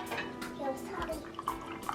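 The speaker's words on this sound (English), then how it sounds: "And then I put a little hot water in." Hot water is poured into a cup to make matcha tea, a brief gurgling trickle heard close up under a person talking.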